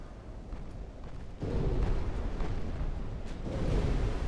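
Torpedoes strike a ship in Ultimate Admiral: Dreadnoughts, a sudden heavy rumbling blast that jumps in loudness and sustains, followed by a second swell of explosive rumble near the end.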